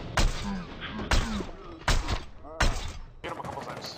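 Video game gunfire booms in four loud, evenly spaced shots about a second apart, each with a sharp attack and short tail, while a voice talks faintly beneath.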